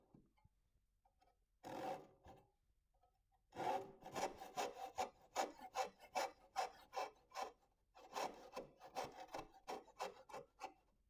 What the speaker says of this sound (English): So we can cut halfway with the saw